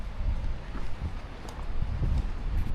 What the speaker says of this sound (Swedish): Älskling, det viner i takluckorna.